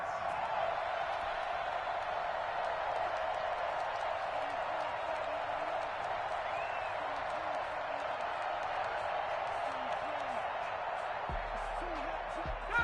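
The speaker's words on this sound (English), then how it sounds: "this crowd loves it as their guys hold on the opening drive" A steady stadium crowd roars at an American football game, a broad, distant wash of cheering sustained throughout with a commentator talking over it.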